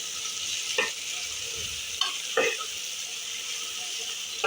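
Ginger-garlic paste sizzles steadily in a pan for mutton pulao, with a few distinct scraping clacks of a spoon stirring it at intervals.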